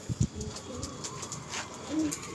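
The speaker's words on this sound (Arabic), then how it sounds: "احذر من شر الحمام ده" Pigeons give a few soft, low coos close by, with a pair of deeper coos at the start and faint outdoor ambience behind them.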